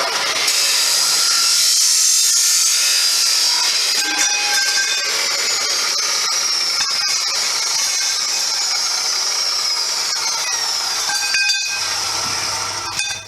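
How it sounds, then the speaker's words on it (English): A chop saw cutting metal stock for forge legs: a loud, steady high-pitched whine and grind that runs close and unbroken for about thirteen seconds, then winds down at the end, with no speech. "bring my chop saw down till it is just barely there"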